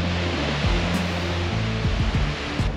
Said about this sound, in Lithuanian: Nu ką, jūra